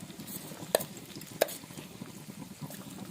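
Masala with curry leaves, onion, chilli, cumin and ginger paste is fried and stirred in a pan. A low, steady sizzle runs throughout, broken by two sharp clinks of a utensil against the pan.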